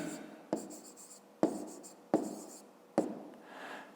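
Handwriting during a fifth-grade math exercise: four sharp, close pen strokes at irregular intervals, each with a scratchy tail, over quiet room tone and no talking.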